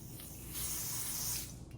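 Hair spray hisses from an aerosol can onto a wig, a continuous close spray that swells louder midway and then tapers off.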